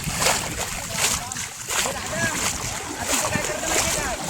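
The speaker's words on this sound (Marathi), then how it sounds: "मी थोडं पाणी जरा हलवतोय कारण माझा पूर्ण बाहेर पडेल." Water being stirred and splashed by hand during Konkan fishing, with repeated soft sloshing and splashes close by over steady outdoor noise and wind, while someone speaks.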